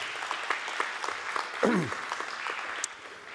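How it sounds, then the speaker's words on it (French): An audience at a conference talk applauds to welcome a speaker onto the stage, a moderate run of steady clapping with a brief swooping noise partway through. "Sous vos applaudissements, pour lui donner du courage un peu."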